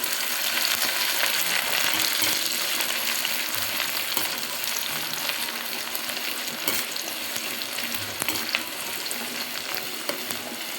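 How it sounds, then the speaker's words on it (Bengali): Onions fry in hot oil in a kadai for beresta, a steady, moderately quiet sizzle with intermittent stirring clicks and scrapes throughout. "তেলটা মোটামুটি গরম হয়ে গেছে, বেরেস্তাগুলো ভেজে নিই।"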